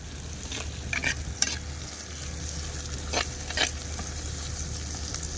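Two large chopped tomatoes are stirred and sautéed in a pan for a Tamil fish curry, with a steady low sizzle beneath a few sharp spoon scrapes and clicks, close by.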